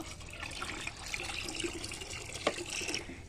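Liquid fertilizer made from kitchen waste being poured into a 20-litre bucket half full of water, a soft steady trickle and splash, quiet and close.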